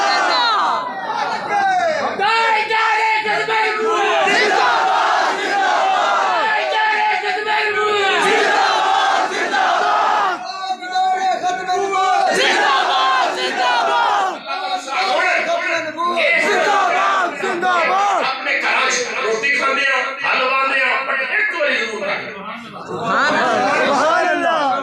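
Crowd at an Islamic religious speech shouting slogans together, a dense continuous roar of many voices filling the whole stretch, loud and close.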